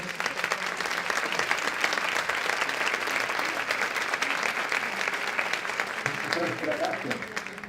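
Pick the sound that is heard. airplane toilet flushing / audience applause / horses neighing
audience applause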